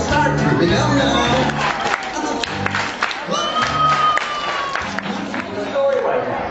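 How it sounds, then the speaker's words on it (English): A crowd of children and audience members claps and cheers loudly at a children's television show, steady applause mixed with whoops and shouts that fills the whole stretch. "Now it's going to be your turn to try the clapping part. Do it real loud."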